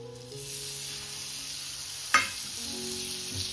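Squid dropped into fried masala in a tawa, a soft continuous sizzle with one sharp clatter midway as it goes in, then a gentle fry with faint music underneath.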